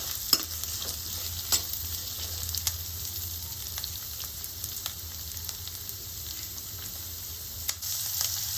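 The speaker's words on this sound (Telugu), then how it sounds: "వేయించుకోవాలి కొంచెం కలర్ మారేంత వరకు" Large pieces of bottle gourd and paneer fry in hot oil in a pan with a steady close sizzle, cut by intermittent stirring scrapes and clicks, with no one talking.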